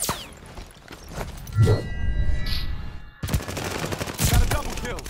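Rapid bursts of automatic gunfire crackle in a close-quarters Call of Duty Vanguard match on the Shipment map, sharp shots clustered in two busy stretches with a brief quiet gap between.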